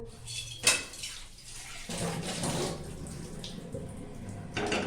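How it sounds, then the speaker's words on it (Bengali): Tap water runs steadily while a kadai (wok) is rinsed and scrubbed in a sink, with a sharp metallic knock near the start and continuous splashing and clatter of the pan throughout, no voices. "কড়াইটি পরিষ্কার করে নেবো।"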